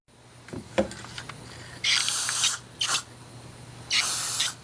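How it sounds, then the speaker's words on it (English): Three bursts of aerosol spray hiss out, each lasting about half a second to a second, preceded by a few faint clicks and rattles, as a rust-preventive coating is sprayed on a Hammarlund HQ-200 radio. "turn it around this way and spray in the other direction"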